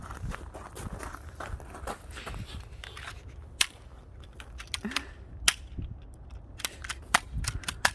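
A cheap toy pistol fires repeatedly, one of two handguns being compared: a 20 TL and a 2000 TL model. Sharp, crisp snaps come at irregular intervals over low background shuffling, growing more frequent toward the end.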